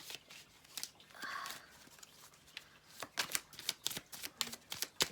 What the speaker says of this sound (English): let's just give them one last quick shuffle